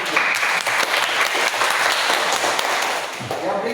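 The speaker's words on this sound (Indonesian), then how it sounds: "Oke, berikan aplaus kepada Olivia." A classroom gives a student named Olivia a round of applause: many hands clap together in a dense, sustained burst that tapers slightly toward the end, with some voices mixed in.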